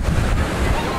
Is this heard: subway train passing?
no